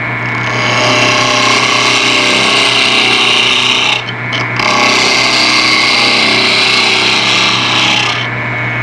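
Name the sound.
woodturning tool cutting a spinning workpiece on a lathe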